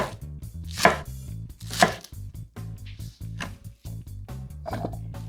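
Green onion greens chopped with a knife on a board, quick rhythmic knocks in a steady run, close and clear, over a faint humming background with no speech.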